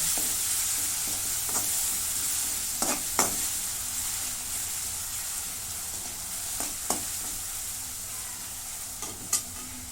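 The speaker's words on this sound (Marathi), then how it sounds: "आता हे लसूण आणि मिरची हिरवी मिरचीची पेस्ट आहे हे पण परतून घेते" Garlic and green chili paste sautéing in a pan, a steady bright sizzle with sharp spatula scrapes and clinks scattered through it, close up, no talking.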